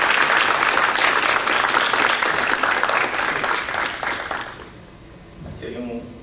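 An audience at an international seminar applauds to welcome a speaker onto the stage, a loud, dense clapping that fills the room for several seconds before fading out, after which a few quiet voices can be heard.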